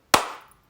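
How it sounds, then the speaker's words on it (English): One sharp hand clap, made to sync video, rings out close and loud in a quiet room and then fades in a short reverberant tail. "Should I do the clap thing?"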